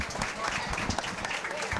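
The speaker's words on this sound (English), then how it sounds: "let's give these kids a nice big round of applause" Applause from a crowd at a county fair hog show, a steady patter of many hands clapping over the arena's background noise.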